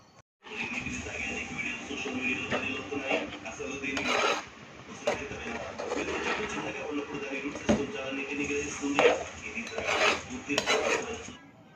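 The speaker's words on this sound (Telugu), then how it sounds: "ధనియాల పొడి వేసిన తర్వాత కర్రీని అయితే తిప్పుకొని రెండు నిమిషాలు అయితే ఉడకనివ్వాలి" A gongura curry gets stirred in a pan, with a spoon scraping and clinking against the metal in steady, repeated strokes and occasional louder knocks. Someone talks over the stirring.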